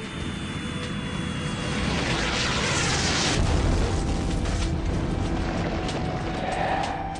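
Rumbling explosive roar of comets and asteroids slamming into the early Earth, a deep sustained blast that swells to a peak midway and then slowly fades, loud with a sweeping, rushing texture.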